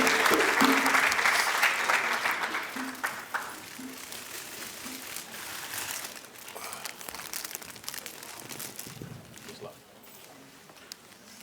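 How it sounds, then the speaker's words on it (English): A college audience applauds a visiting king of Akyem. The clapping is loud and full at first, then gradually thins and fades while someone talks beneath and after it. "Let's give him another round of applause"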